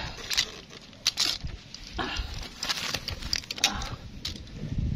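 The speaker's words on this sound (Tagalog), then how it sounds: "So ayun na ang ulan." Steady patter of rain with scattered sharper drops and crackles, continuous throughout, fairly close and moderately loud, with no voices.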